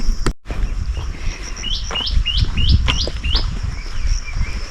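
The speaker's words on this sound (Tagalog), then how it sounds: "ang maririnig mo lang is yung huni ng ibon," Birds chirp along the Sai Wan hiking trail in Hong Kong: a run of about six quick, bright chirps in steady succession, heard fairly clearly over a low outdoor background with no talking.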